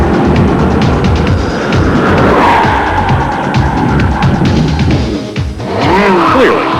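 A Ferrari 360 roars across the finish line of a 0 to 1 mile sprint at about 152 mph, a loud sustained engine roar with a brief tire squeal as a voice speaks over it.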